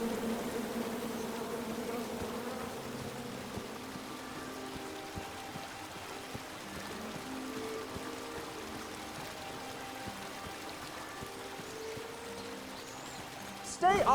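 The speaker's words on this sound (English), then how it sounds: "Come at me, bees!" Bees in the King's Quest video game buzz in a steady, fairly quiet drone that lasts throughout, with soft tonal game sounds underneath and a brief louder burst at the very end.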